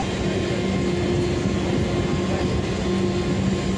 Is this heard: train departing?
yes